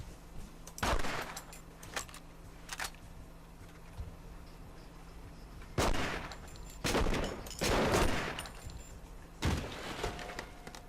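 Gunfire in The Punisher video game: scattered loud shots and short bursts separated by quieter stretches, some single cracks and some rapid clusters, with a faint steady hum beneath.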